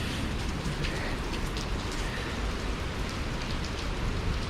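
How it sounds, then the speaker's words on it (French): Steady rain falls the day after a typhoon, a constant dense patter of drops with no pauses, close and moderately loud. "il pleut"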